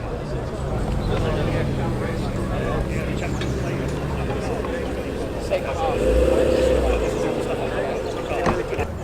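A Maserati at a Cars & Caffeine car meeting at Combermere, Cheshire, gives off a low, steady engine rumble beneath constant crowd chatter, swelling briefly louder toward the end.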